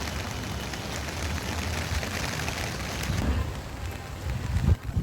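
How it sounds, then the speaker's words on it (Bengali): Steady rain with wind on a rooftop terrace, a dense continuous wash of drops pattering on the roof and an umbrella overhead, fairly close, with brief louder gusts and thumps near the end. "শুধু জাস্ট বৃষ্টি উপভোগ করছি"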